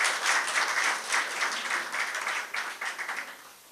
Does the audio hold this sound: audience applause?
yes